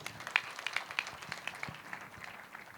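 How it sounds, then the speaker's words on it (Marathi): Audience applause from a seated crowd at a panel discussion, a light, scattered patter of clapping that stays fairly faint and thins out toward the end. "एकदा जोरदार टाळ्या झाल्या पाहिजेत"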